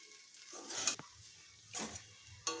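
Dalia (broken wheat) frying in a pan, soft stirring scrapes with a few brief sizzling bursts and spoon clinks, close but quiet, no talking.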